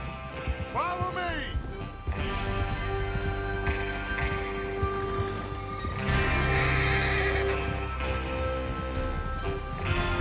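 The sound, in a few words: horses neighing and hooves in Red Dead Redemption 2 video game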